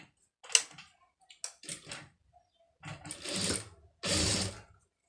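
A sewing machine stitches a fabric strip joint in short bursts, the motor whirring and rattling close by in several runs of varying length separated by brief pauses.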